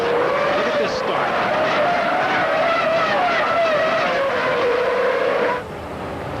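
Formula 1 race cars roar off the start at Monaco, the pack's high engine whine rising and falling close by with tyre squeal, while a commentator talks over it.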